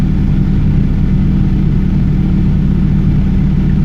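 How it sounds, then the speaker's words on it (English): A turbocharged Honda Civic EJ8 with a D16 engine and an eBay turbo drones loudly and continuously under load in fourth gear, a steady, close engine roar with no break. "I'm gonna do a fourth gear pull too because it's probably gonna be more accurate"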